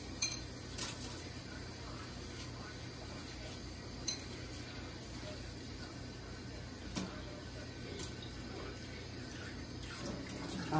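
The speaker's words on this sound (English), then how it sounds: "I'm actually washing the rice in warm water." Rice being washed by hand in warm water in a pot, a steady watery swishing and sloshing broken by occasional clinks of grains and pot, close and fairly quiet.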